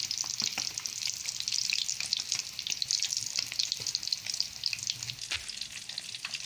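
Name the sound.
frying fish in a pan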